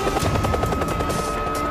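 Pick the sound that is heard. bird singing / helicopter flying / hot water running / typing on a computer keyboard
helicopter flying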